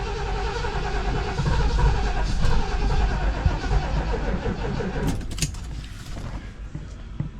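A 1977 Ford LTD station wagon with a suspected ignition fault and lost spark cranks repeatedly, its starter chugging in a steady loud rhythm for several seconds before easing off without catching.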